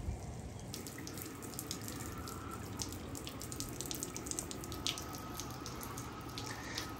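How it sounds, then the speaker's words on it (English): Ducks splash and paddle in water around an emptied water trough near a barn, a steady close watery sloshing with scattered drips and small splashes throughout, no talking. "You have ducks going for a swim."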